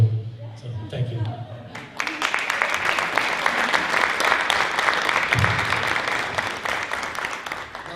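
A hall of fame induction ceremony crowd at a high school event breaks into a round of applause after a quieter opening. The clapping is dense and sustained, with a few voices in the first seconds.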